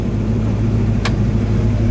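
A 1969 Chevrolet Camaro SS V8 idling at about 700 RPM, a steady, loud low rumble with an even throb throughout and one brief sharp click partway through.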